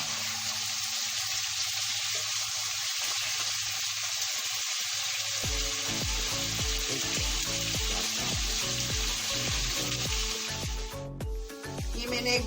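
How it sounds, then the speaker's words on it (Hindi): Chicken fries in hot oil in a pan, giving a loud, steady sizzle that carries on throughout, with some stirring or scraping partway through. "जिसको मैं थोड़ी सी देर इस चिकन को इसके अंदर भूनूंगी,"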